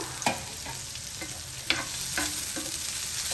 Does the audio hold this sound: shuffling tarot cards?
no